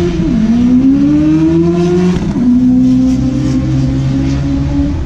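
Turbocharged Honda race car screaming past at high revs, with a loud, steady engine drone that briefly dips and shifts pitch as it passes, no speech.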